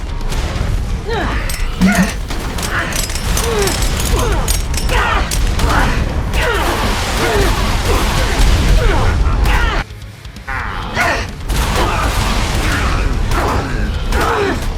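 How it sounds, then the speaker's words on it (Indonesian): A boss in ARK Survival Ascended fires rockets and grenades, producing dense rapid volleys of blasts and crashes that run almost continuously, with a player talking over the chaos throughout. "Dikasih roket, dikasih granat sama dia."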